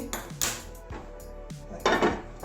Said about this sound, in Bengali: গ্যাসটা ধরিয়ে চটটা বসিয়ে দিই